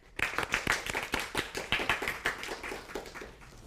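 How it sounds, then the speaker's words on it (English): Audience applauding to welcome a guest speaker, a brisk patter of many hands clapping at close range, swelling quickly and then tapering off over a few seconds. "Let's give a big round of applause and welcome our guest"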